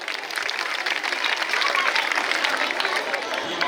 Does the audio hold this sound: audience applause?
yes